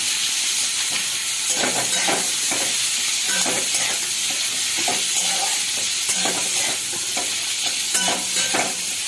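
Onions frying in a pan and being stirred, a constant hissing sizzle with rhythmic scraping strokes of the spoon every second or so, close and fairly loud.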